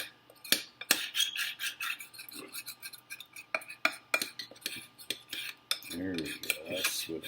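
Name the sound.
spoon scraping cacao with hot milk off the cup walls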